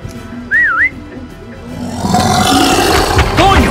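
A wavering whistled tune from a character in the video game Far Cry 6, rising and falling briefly and clearly before giving way to a louder rushing, roaring game soundscape.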